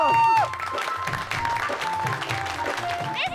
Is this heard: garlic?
no